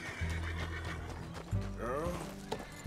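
In Red Dead Redemption 2, a horse whinnies near the end amid hoof clip-clops and mechanical clatter, set under a low game soundtrack drone; quiet overall.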